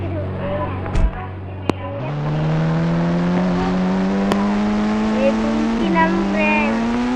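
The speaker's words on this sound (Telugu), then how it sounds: "కార్ అయితే వస్తుంది, పోలీస్ కార్." A police car in the GTA video game drives with a steady engine drone whose pitch climbs and then holds high, loud and close, with a couple of sharp ticks early on.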